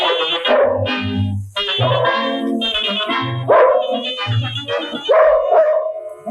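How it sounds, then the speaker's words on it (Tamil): Dog barking sounds woven into a Tamil film song, several short loud yaps falling in rhythm under and between singing voices with music. "நாய் பாட்டு கேட்டேன் கண்டே"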